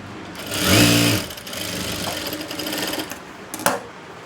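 An electric sewing machine stitches the hook piece on the back of a blouse, a loud fast whirring burst followed by quieter steady running and a few clicks.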